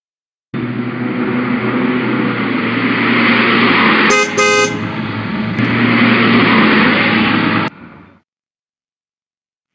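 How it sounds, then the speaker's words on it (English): City traffic roars steadily around a bus stop as a city bus waits, with a car horn honking briefly midway through, then the noise cuts off abruptly. "This is my bus. Let's go in the bus."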